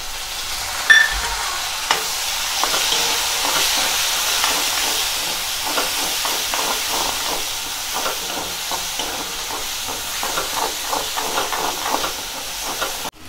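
Crushed garlic and tomatoes sizzle loudly and steadily in a hot pan for masala bhindi, a close, continuous hiss broken by scattered spatters and stirring clicks, with no voices.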